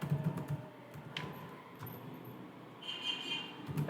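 Keys clatter on a computer keyboard while a prompt is entered into an online AI chat, a quick irregular run of close, fairly soft clicks with short pauses and no voices.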